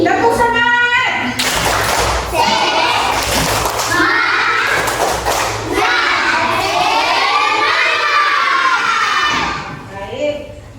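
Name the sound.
children doing a rhythmic spirit clap in class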